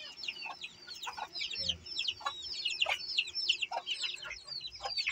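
Silkie hens, including one with three chicks, cluck and chirp in quick, irregular bursts at close range, a soft busy chatter with no talk.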